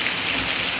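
First rain of the year falling, a dense steady hiss of raindrops striking surfaces nearby, continuous and even throughout the short stretch with no voices.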